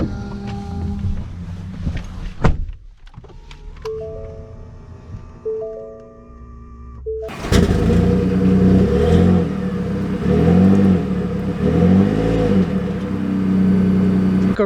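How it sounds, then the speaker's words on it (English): A 2022 Ford F-150 King Ranch PowerBoost hybrid pickup sets off, with a quiet cabin and a few chimes before a loud rising engine rumble that swells and holds as the truck drives away. "Let's take it out and see how it drives."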